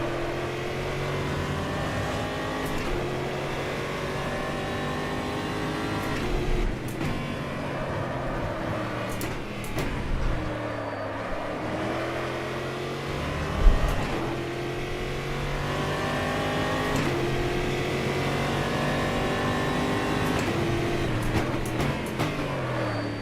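Race car engine in a sim racing game, rendered as a steady, continuous drone with shifting harmonic sweeps as revs climb and drop through gear changes, no talking over it.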